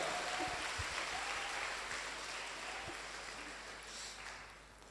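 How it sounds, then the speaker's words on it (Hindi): Audience applause at a DXN business motivational seminar, a steady wash of clapping from a crowd, moderately loud and fading slightly toward the end, with no voices over it. "आपके ग्रेट अपलाइन, उनके लिए एक जोरदार ताली बजाइए"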